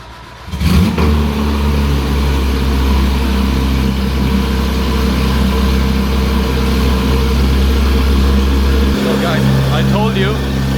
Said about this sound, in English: the new exhaust, I don't know if you can hear me, but the cold starts are so fucking loud